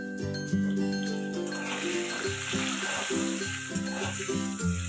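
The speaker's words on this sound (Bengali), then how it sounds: "নুন আর হলুদ দিয়ে আলুগুলো আমি ভালোভাবে ভেজে নেব" Potatoes frying in oil with salt and turmeric, a moderate continuous sizzle heard close up, with soft clinks and a background tone running underneath.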